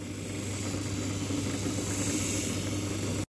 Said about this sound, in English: This is my homemade disc sander.